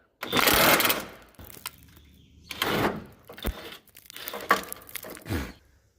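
A wrench or socket works a rusted body bushing bolt on a Chevy Blazer, giving several close bursts of rapid ratcheting clicks separated by short pauses.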